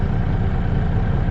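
A small corn chopper runs through a field, cutting grass and corn stalks, giving a steady, loud low-pitched mechanical drone that holds evenly throughout without pause.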